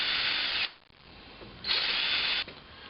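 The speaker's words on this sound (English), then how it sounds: "then drill these holes and attach the screws" A power drill bores holes into a wooden camera tripod base, two loud sustained whirring bursts close by with a short pause between them, no talking.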